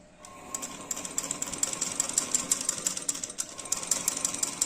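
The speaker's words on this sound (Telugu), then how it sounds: "ఇట్లా పెట్టుకొని 1/2 ఇంచ్కి లేదా 1/4 ఇంచ్కి స్టిచ్ చేసుకోవాలి" Sewing machine stitching bias-folded binding around a kurta neckline, a steady fast run of needle clatter with a whirring motor, continuous and close throughout.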